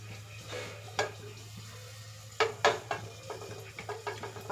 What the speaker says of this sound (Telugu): మనకి కొంచెం ఇది హీట్ అయిన తర్వాత కొంచెం ఆయిల్, ఒక 2-3 స్పూన్స్ ఆయిల్ వేస్తాను